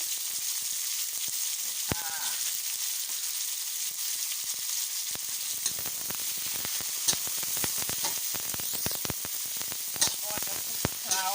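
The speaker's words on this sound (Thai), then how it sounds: "ใส่เห็ดลงไปผัดก่อนเพราะว่าเห็ดนี้จะสุกยากยากกว่าผัดชนิดอื่น่ะ" Mushrooms stir-frying in a pan, a continuous hissing sizzle with scattered sharp clicks and occasional spatula scrapes, steady and fairly close, with a faint voice now and then.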